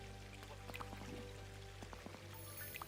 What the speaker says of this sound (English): Waterfall in the woods.